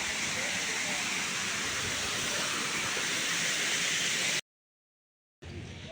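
A waterfall at the Rock Garden in Chandigarh gives a steady, loud, broadband rushing roar that cuts out abruptly near the end and then briefly returns.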